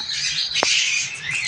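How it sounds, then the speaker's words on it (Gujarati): A flock of parrots gives a steady high chatter with one sharp, close squawk standing out partway through. "આ તો બધા પોપટ છે"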